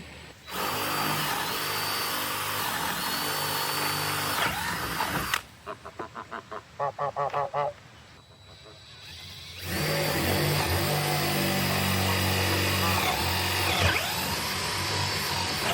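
A power drill bores holes in wood while a chicken tractor's wheels are being fitted, first with a long steady whine, then a run of short stuttering pulses, then another sustained loud whir close by.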